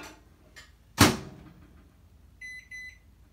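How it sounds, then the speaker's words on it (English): A kitchen microwave oven, used to cook a piece of winter squash: a soft click, then a loud thunk of the door closing, followed by a few clear electronic beeps close by, with no talking. "I just cooked the little end piece in the microwave"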